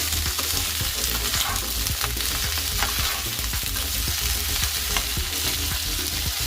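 Potato and cauliflower fry over a full flame, a loud, dense, continuous sizzle with frequent stirring scrapes and clicks, close up and without any voices.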